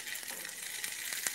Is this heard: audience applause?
no